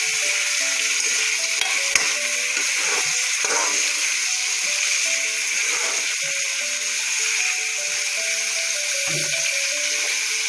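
Fish hitting hot oil in a pan after salt, cumin powder, chilli, turmeric, ginger and garlic, giving a steady close hiss and sizzle with faint stirring clatter and a quiet melody underneath.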